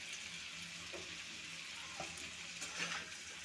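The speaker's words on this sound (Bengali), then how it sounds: "এখন দিয়ে দিচ্ছি ডাঁটা আলুগুলো, একসাথে মিশিয়ে নেব।" Drumstick stalks and potatoes are stirred into a spice paste frying in a pan, a soft continuous sizzle with a few faint scraping knocks, fairly quiet and without talk.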